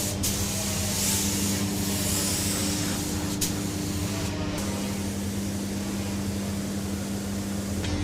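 Gel coat being sprayed into a fiberglass body kit mold inside a spray booth, a steady broad hiss continuing throughout over a constant low booth hum.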